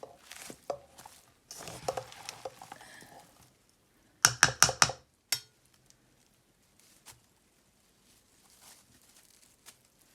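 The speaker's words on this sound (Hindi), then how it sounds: "मिक्स करने के बाद हम इसे चॉप करेंगे।" Knife chopping through a minced meat kebab mixture of ground mince, vegetables and cornflour for Turkish Adana kebab, a quick burst of four or five sharp, close chops in a row, surrounded by softer scattered kitchen handling noises.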